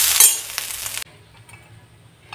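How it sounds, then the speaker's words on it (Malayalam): Curry leaves dropped into a hot pan with grated coconut while cooking a Kerala clay-pot rice meal, giving a loud burst of hissing sizzle for about a second, then a quieter, steady frying crackle continuing alone. "രണ്ട് കറിവേപ്പില, അതും കൂടി ഇടാം."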